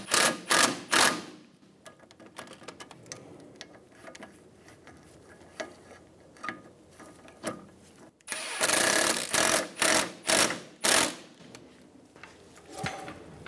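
Ratchet wrench snugging bolts on the forward lower control arm of a 2003-2007 Infiniti G35, close-up bursts of rapid clicking separated by quieter pauses, with louder runs of ratcheting midway through.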